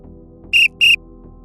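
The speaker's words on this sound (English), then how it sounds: "The ref blows the whistle." Two short, sharp whistle blasts in quick succession, loud and shrill over a low background hum.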